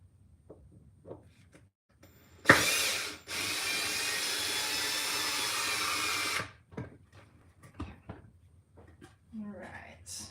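A power drill drives screws into a pine board: a short sharp burst, then one sustained whirring run of about four seconds, with quiet voices and small handling noises before and after.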